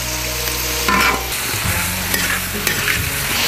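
Scallion, ginger and star anise hitting hot oil in an iron wok, a loud steady sizzle with a low rumble that drops away after a second, then scraping stirs and clinks over continuing frying.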